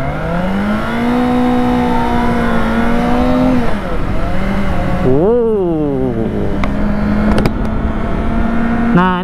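A Kawasaki ZX25R motorcycle carries a rider and a passenger, its engine whining and rising through the gears with a brief dip as it shifts, loud and close, under intermittent talk from the riders.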